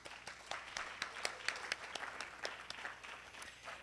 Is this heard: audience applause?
yes